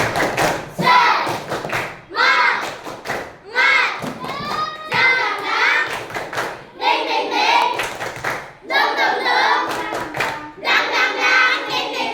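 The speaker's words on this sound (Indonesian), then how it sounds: "Kita buktikan dulu tepuk semangat ya." A class of fifth-grade children claps out a rhythmic spirit clap in quick patterned bursts, with the voices of the children chanting along between the claps in a classroom.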